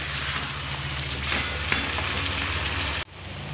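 Fried chicken sizzles steadily in a covered pan on a medium flame, a dense close frying hiss that cuts off abruptly near the end.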